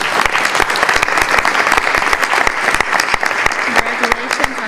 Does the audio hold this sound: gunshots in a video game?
no